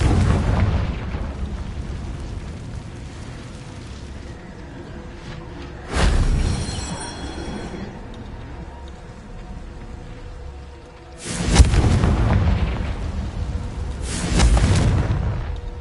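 Confringo blasting spells detonate in Hogwarts Legacy, three loud explosive bursts at about six, eleven and fourteen seconds, each a sharp crack with a rumbling tail over a steady low game ambience.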